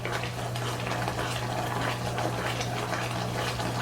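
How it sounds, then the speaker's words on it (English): Homemade blueberry syrup at a rolling boil in a pot, whisked continuously, giving a steady bubbling, churning wash of liquid sound with a low hum beneath, close and even throughout. "So I'm just going to stir this, keep whisking it, get it whisked up nicely here"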